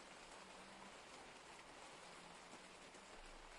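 Steady rain falling outdoors, a dense, even hiss of drops hitting surfaces that continues without a break, fairly quiet and with no voices.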